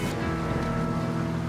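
Heavy rain pours steadily onto a lobster fishing boat at sea, a dense continuous hiss with a low rumble of water and hull beneath, no pauses or talk.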